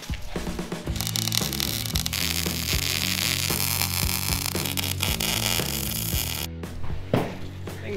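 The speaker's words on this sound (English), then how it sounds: "I'll finish welding this side" Arc welding a beefed-up truss onto a Jeep YJ axle, a steady crackling hiss running nearly the whole stretch with a brief break near the end and machine hum underneath.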